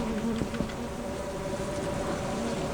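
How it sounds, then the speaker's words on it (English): Bees buzzing around beehives in a video game, a steady low insect drone with a few faint tonal hums, continuous and fairly quiet, no talking. "Freaking beehives."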